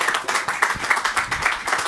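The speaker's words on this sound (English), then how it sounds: "Let's give him a round of applause." An audience gives a round of applause for guest Aaron Lipp at a Spotlight 50 show, brisk, close crowd clapping with pulsing, uneven bursts and no one talking.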